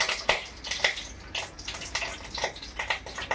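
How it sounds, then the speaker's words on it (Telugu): Water crackles and spits in a hot pan of oil and ghee, a close series of irregular sizzling bursts with no talking. "నీళ్ళు ఉన్నాయి పెనంలో, అందుకే చిట్ట చిట్ట అంటుంది"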